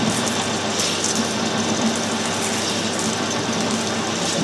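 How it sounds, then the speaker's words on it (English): A milling machine quill cuts metal with an interrupted cut across two bolt holes, giving a steady, close mechanical whirr and grind that runs evenly throughout with no talking. "It can interrupt its cut now because it's obviously hitting the two bolt holes."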